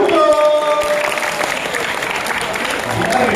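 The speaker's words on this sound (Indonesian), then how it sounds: "Dari tepuk tangan dulu Hugo." An audience at a Ramadan-welcoming religious talk breaks into steady applause, a dense wash of clapping that carries on for several seconds, with a brief tone and some voices mixed in at the start.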